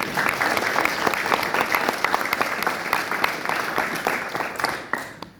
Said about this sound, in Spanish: Y un aplauso a César también.